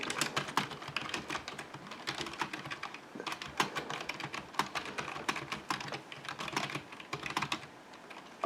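Continuous typing on an HP K1500 full-size USB desktop keyboard, a close, steady patter of many quick keystrokes in uneven bursts with brief pauses, and no talking.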